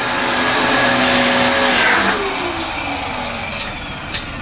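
A vacuum cleaner runs over sandy carpet with a loud, steady motor whine and airy roar, its pitch shifting slightly as it moves, then easing a little near the end with small knocks.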